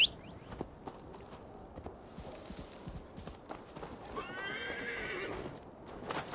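In the video game Assassin's Creed Valhalla, a horse whinnies while hooves clip-clop along at a steady trot, moderately close, over a low background hum.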